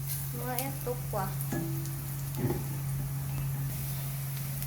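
Pechay and tofu fry in a pan, a steady close sizzle with a low hum underneath and a few brief clinks or voice fragments over it.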